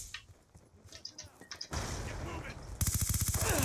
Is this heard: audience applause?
no